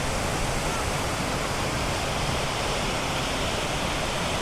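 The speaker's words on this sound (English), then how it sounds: "It's like the waterfall just keeps going up when you get over here." A waterfall deep in the Uinta Mountains roars steadily and close, a dense unbroken rush of falling water that holds at an even loudness from start to finish.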